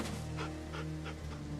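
A dog in The Walking Dead video game pants in quick, rhythmic breaths, about four or five pulses over a steady low background hum.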